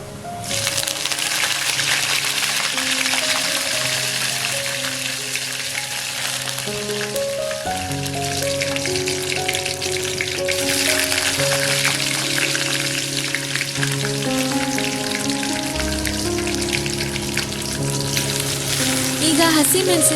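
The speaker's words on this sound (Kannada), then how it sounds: "ಇವಾಗ ಒಂದು ಸೌಂಡ್ ಬರುತ್ತಲ್ಲ ಚಟಪಟ ಅಂತ, ಒಂಥರ ಚಂದ, ಅದು ನೀವು ಕೇಳಿಸ್ಕೊಳ್ಳಿ." Curry leaves and garlic fry in hot oil, giving a steady crackling sizzle with bursts of popping throughout, close and fairly loud, while a voice speaks faintly over it.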